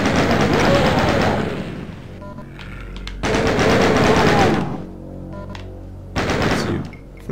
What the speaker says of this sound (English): And we both got miniguns.